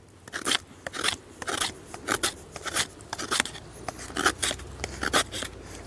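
A knife shaves curls from a piece of wood for fire tinder, making a steady run of close, crisp scraping strokes that repeat about twice a second, with no talking.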